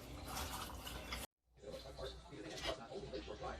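Sugar syrup pours over homemade apple preserves, a faint, soft liquid splashing and trickling that briefly stops and then resumes.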